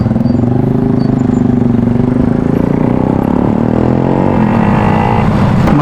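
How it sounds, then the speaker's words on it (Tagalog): Motorcycle fitted with an SC Project aftermarket exhaust, running steadily nearby with a deep, loud, continuous engine rumble throughout and no talk over it. "SC project pala yung tambocho ni Kuya."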